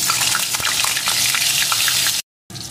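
Cut potato pieces frying in hot mustard oil in a wok, a loud continuous sizzle and crackle close up, broken by a brief silent gap before resuming.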